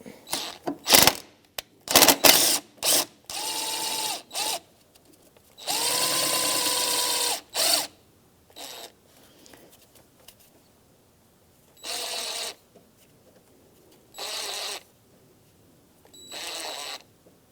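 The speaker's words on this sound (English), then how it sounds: "Snug up these bolts that we loosened up earlier." A power tool snugs bolts on the A/C belt tensioner of a 2004-2009 Subaru Outback, whirring in repeated short bursts of a few seconds each, separated by pauses, close and fairly loud with no talk.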